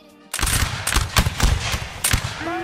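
Musket volley fire in Mount and Blade Warband Napoleonic Wars: a loud, dense crackle of overlapping shots erupts after a brief quiet and continues in ragged bursts for a couple of seconds.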